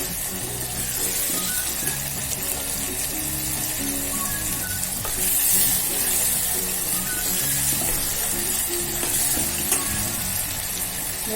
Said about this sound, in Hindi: इन्हें भी इनका कच्चापन जाने तक भून लेंगे। तेल छूटने लगा है।